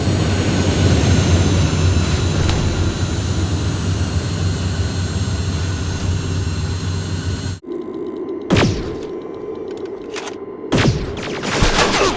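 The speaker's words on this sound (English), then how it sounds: "My sensors are picking up an aerial transporter in your vicinity." A dense, loud engine roar from an aerial transporter aircraft in the Terminator: Resistance video game, constant for several seconds, then cutting off into sharp bangs and a fainter low hum.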